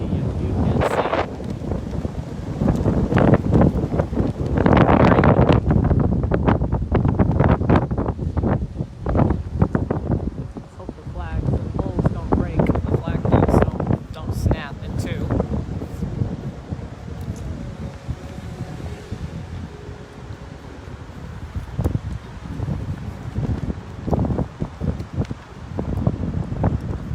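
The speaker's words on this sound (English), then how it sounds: "I'm telling you, it is windy, as you can see." Strong gusting wind buffets the microphone on a street in Swampscott, producing loud, rumbling bursts that swell and fade irregularly for nearly half a minute, close and unsteady, with a faint voice at times underneath.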